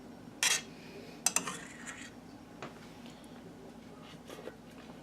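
A clean metal spoon clinks sharply against dishes a few times while rice pudding is made, with a couple of bright, close taps, then faint scraping and handling under quiet room tone.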